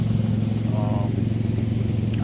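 A 2003 Ford Explorer idles with a newly installed muffler, a steady low, even engine rumble close by with no revving.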